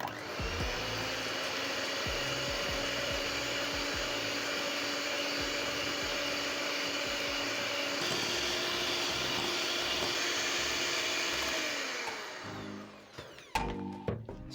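An electric mixer creams sugar, margarine and eggs in a bowl, a steady, close motor whine that holds for about twelve seconds before cutting off, followed by a few clinks.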